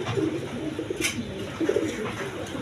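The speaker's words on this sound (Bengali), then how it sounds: "এইখানে এক পেয়ার কবুতর আছে, রেইন কবুতর" A pair of rain pigeons coo close by in a series of soft, rolling low calls, with a brief brighter rustle midway and no voices.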